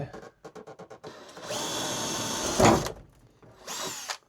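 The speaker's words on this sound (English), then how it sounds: "We're going to have to drill one of the bits out." A power drill whirs in short bursts, then runs steadily with a grinding surge as the bit bites into a stuck drill bit, drilling it out, stops, and spins up briefly again. Close and loud.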